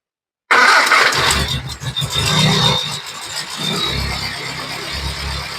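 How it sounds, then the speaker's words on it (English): A classic Morris Minor engine, cranked via the starter solenoid with ignition on, whirs and catches, settling into a loud, rough, uneven idle that continues steadily. "We're just going to use the starter solenoid to fire it away. We've got the ignition on."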